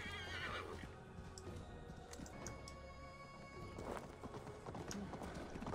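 A horse in the Assassin's Creed Valhalla video game neighs loudly with a rising, wavering whinny, then its hooves clip-clop in a quick galloping rhythm, with faint game ambience and a voice speaking briefly in the background.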